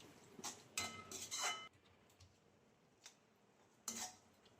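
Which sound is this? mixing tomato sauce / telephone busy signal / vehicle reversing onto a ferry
mixing tomato sauce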